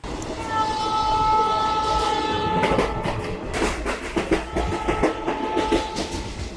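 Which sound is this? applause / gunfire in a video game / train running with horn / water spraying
train running with horn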